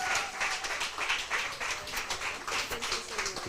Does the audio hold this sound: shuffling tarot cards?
no